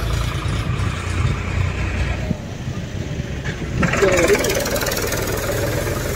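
A tractor engine runs in a tribal village setting, a steady low mechanical drone that shifts in tone partway through and grows louder near the end, with voices in the background.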